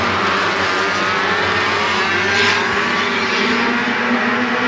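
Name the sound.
Outlaw Midget race cars racing at Flamboro Speedway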